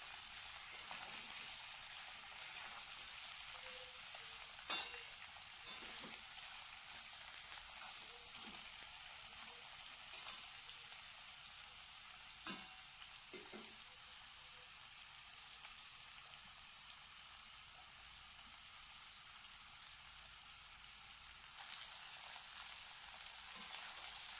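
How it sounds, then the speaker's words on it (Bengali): Mixed vegetables and beans for a labra curry fry in a covered pan, giving a faint, continuous sizzle with a few soft clicks and scrapes from stirring, and no voices. "এবারে এগুলাকে কিছুক্ষণ নেড়ে ঢাকনা দিয়ে ভেজে নেবো"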